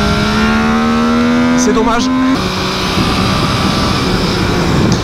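A close, loud MV Agusta Brutal 800 motorcycle engine holds a steady high rev, then drops off as the throttle closes, with a brief spoken remark over the rumble.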